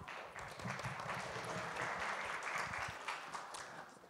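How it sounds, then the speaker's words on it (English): An audience at a scientific symposium session applauds steadily for about four seconds, a dense wash of many hands that swells quickly, holds, and tapers off at the end. "Let's give him another big round of applause."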